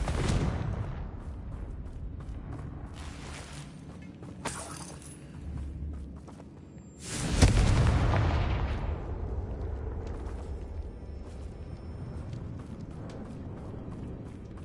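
Explosive spells cast in Hogwarts Legacy gameplay on PS4, with a loud blast and shattering crash midway followed by a long rumbling decay, among several sharper bangs and a continuous game soundtrack.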